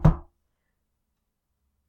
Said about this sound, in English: She heard a knock at her bedroom door.